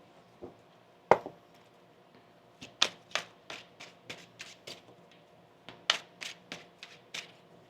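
Tarot cards being shuffled by hand, a run of crisp riffling bursts and taps in irregular clusters, close and clear against a quiet background, with no talking.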